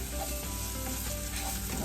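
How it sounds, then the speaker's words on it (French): Onion searing in a hot pan, a steady continuous sizzle at close range with no talk over it. "Mais pour les oignons, je voulais juste les saisir"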